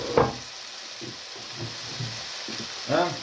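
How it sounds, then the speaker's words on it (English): Raw chicken hits a hot frying pan with a short, sharp sizzle, followed by a steady low crackle of frying with a few soft knocks, and a second burst of sizzling near the end, heard close up with no talking. "When frying pan is hot, put in your chicken. You see, you hear it? The sound of sizzling."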